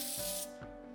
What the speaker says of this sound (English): I'm going to use the Give Me Life Volumizing Dry Shampoo